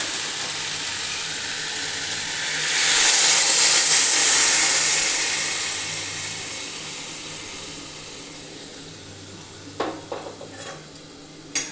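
Hot water poured into a pan of fish curry with potatoes, a rising hiss and sizzle that swells for a few seconds and then fades, followed by a few light clinks of utensils.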